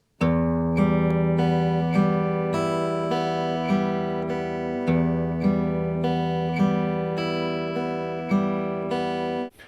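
Acoustic guitar fingerpicked in a steady repeating pattern, bass note then plucked upper strings, ringing clearly up close before a final muted stop.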